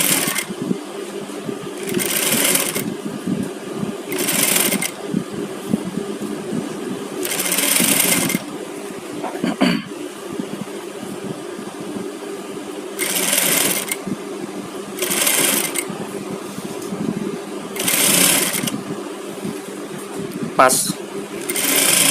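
Sewing machine stitching the side seam of a garment in repeated bursts of fast whirring, each a second or two long with quiet gaps between, close and clear, with a voice speaking briefly.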